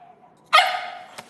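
A single sharp dog bark rings out close by, trailing off briefly, followed by a faint short yip.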